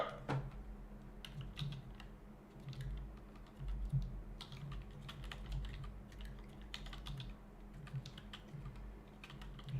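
Steady typing on a computer keyboard during a typing test, with a dense run of quick, close key clicks going on without pause over a low background rumble.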